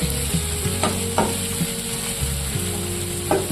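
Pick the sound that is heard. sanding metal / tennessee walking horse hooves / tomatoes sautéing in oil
tomatoes sautéing in oil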